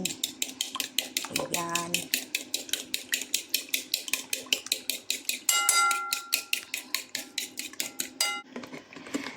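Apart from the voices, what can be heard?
stirring French toast mixture with a utensil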